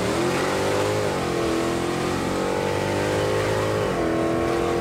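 A Mercedes E55 AMG accelerates hard through a seven-speed gearbox, the engine note climbing steadily and dropping at each upshift, loud and close with no talk.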